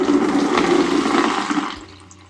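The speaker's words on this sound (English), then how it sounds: "You're going to strain your beans" Water from sprouting beans pours and drains through a strainer into a sink, a loud steady rushing gush that tapers off at the end, with no talking.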